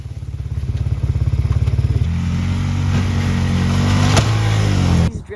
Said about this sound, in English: it's also dragging the snow as the quad goes backwards with the blade